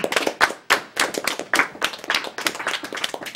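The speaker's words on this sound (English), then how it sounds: "Can we get a hand of applause for Worcester for winning the fight?" A burst of audience applause at a speedrunning marathon event, many hands clapping in a dense, steady patter that stays loud throughout with no voices over it.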